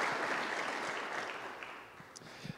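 Quiet, somewhat distant congregation applause during a church service, soft clapping that gradually thins out, with a few stray sounds near the end.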